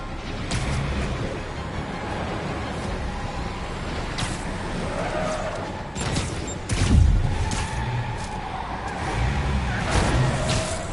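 Trucks carrying gunmen race along a road in a Spider-Man video game chase, with a continuous engine roar, revving swells and a heavy thump near the middle, under layered game sound effects.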